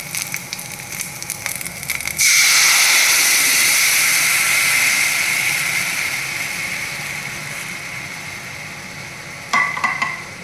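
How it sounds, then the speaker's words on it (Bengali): Tomato pulp poured into a hot pan for a thick tomato onion soup, bursting into a loud, sustained sizzle that slowly fades, with faint stirring clatter before and a few utensil knocks near the end. "এবার আমি দিয়ে দেব টমেটোর পাল্পটা"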